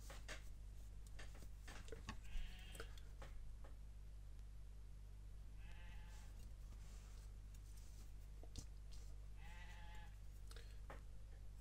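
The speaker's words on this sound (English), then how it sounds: "It must be a while since you've heard the sheep on these videos" Sheep bleat faintly a few fields away, several separate calls spread out over a steady low indoor hum, with occasional small ticks and clicks nearby.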